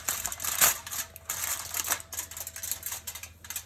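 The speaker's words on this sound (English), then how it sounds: "Then I'm going to take the foil off the top." Foil is peeled off a dish of stuffed peppers fresh from the oven, giving a run of close, crinkly rustles and crackles that come in uneven bursts.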